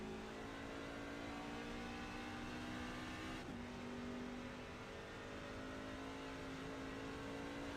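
A race truck engine in the iRacing sim at Phoenix Raceway, TranService Truck Series, holds a loud, steady high-revving drone that briefly dips at a gear change midway, then pulls on at high RPM, with no voices.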